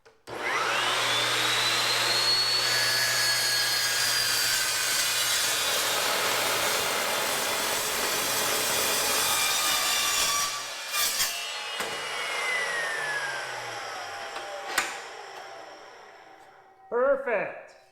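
A 14-inch S355MCS metal cutting miter saw slices through a clamped metal piece, a loud sustained high-pitched whine and grinding lasting about ten seconds, then spinning down with a few clatters and knocks afterward.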